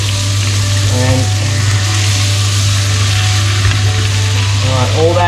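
A scaled, skin-on barramundi fillet fries in butter in a pan just after being flipped, producing a loud, steady close-up sizzle with a few faint utensil clinks over it.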